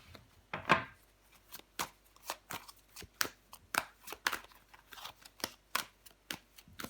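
Tarot cards are handled and laid down on a table, producing a quiet series of crisp, regular taps and slides, close and distinct with no talking.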